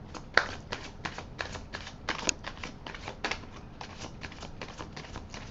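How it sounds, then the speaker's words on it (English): Tarot cards shuffled by hand in a series of quick, crisp riffles and soft slaps, steady rhythm over several seconds, close and moderately quiet with no speech. "I will shuffle again."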